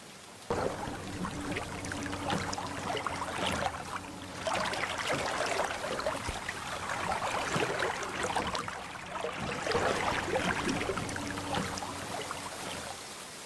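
Water splashes and trickles steadily around a small wooden fishing dinghy gliding along in a cartoon fairy tale, a continuous watery wash with gentle surges, close and fairly loud, with no talking.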